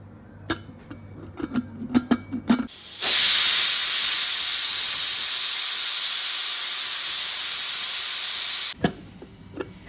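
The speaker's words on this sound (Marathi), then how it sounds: "3 शिट्ट्या होईपर्यंत शिजवून घ्या।" A pressure cooker holding moong dal soup with carrot, beet, tomato, bottle gourd and water lets out a loud, sustained whistling hiss of steam for several seconds, framed by brief utensil clinks before and after.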